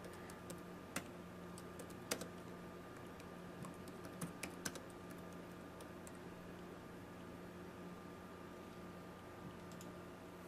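Keys clatter in light, scattered taps on a computer keyboard, a quiet run of clicks with occasional sharper strokes over a steady low hum.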